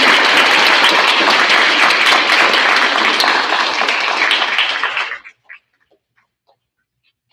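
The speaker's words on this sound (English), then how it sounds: "let's give those students a round of applause for being so great." An audience at a sixth-grade awards ceremony applauds the award students, a dense, loud wash of clapping for about five seconds that quickly dies away to a few scattered claps and near silence.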